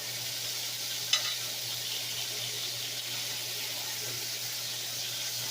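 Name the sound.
meat searing in a frying pan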